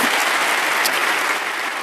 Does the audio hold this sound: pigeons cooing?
no